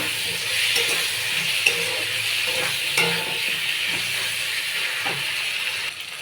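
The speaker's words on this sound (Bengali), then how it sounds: "এখন কেটে রাখা আলুগুলো আমি এই মশলার মধ্যে দিয়ে দেবো। আলুগুলো অল্প একটু কষিয়ে নেব" Cut potatoes frying in spice masala in a pan, a steady hissing sizzle throughout with occasional soft stirring scrapes and knocks.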